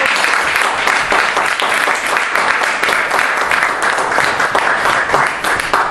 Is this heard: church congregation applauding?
yes